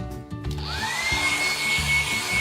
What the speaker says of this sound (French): à l'aide de votre sèche-cheveux